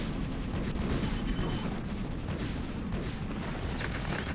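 Dense, continuous barrage of rapid gunfire and impacts as StarCraft vultures with upgrades assault photon cannons, loud and unbroken throughout with a faint higher whine near the end.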